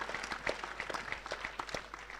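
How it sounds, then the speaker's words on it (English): Audience applause at an evening event in a function suite, a short stretch of scattered hand claps, fairly faint and thin, as if from a small crowd. "We've got to give a round of applause for that."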